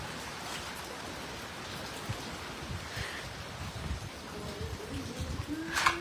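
Rain and hail from a violent storm in Vientiane, Laos, lashing roofs as a steady, dense patter and hiss that holds throughout, with a few sharper hits near the end.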